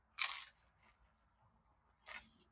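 Two sharp crunchy bites into a thin-crust Jack's bacon cheeseburger pizza, the first louder and longer, the second shorter about two seconds later, close up in an otherwise quiet room.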